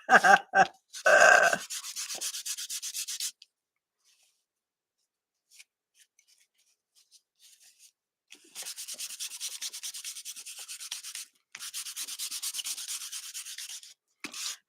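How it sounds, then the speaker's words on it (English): Paint being rubbed off a surface by hand, heard as close scratchy rubbing strokes in bursts with quiet gaps between them, with no talk. "Can't talk, rubbing paint off."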